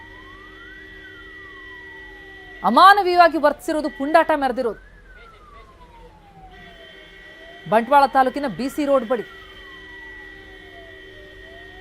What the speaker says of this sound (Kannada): ಆಂಬ್ಯುಲೆನ್ಸ್ ಸೈರನ್ ಮೊಳಗ್ತಾ ಇದೆ ನೋಡಿ